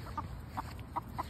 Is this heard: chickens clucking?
yes